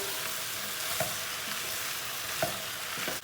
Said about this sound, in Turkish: Tam bu aşamada patatesleri atıyoruz. Şöyle bir karıştırıyoruz.